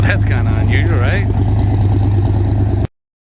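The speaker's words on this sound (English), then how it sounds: "Got this old convertible coming in there." An old convertible rolling in at a street rod show in York, Pennsylvania, its steady low engine rumble held close and loud under people talking, then cutting off abruptly.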